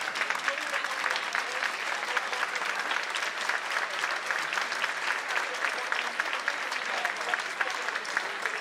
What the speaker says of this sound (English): I think the police department really deserves a standing ovation from all of us here tonight.